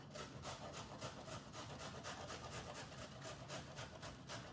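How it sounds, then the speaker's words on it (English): Yellow cauliflower rubbed against a hand grater gives a steady, rhythmic rasping with closely spaced strokes, faint and heard alone. "I'm just gonna take my grater and we can grate it."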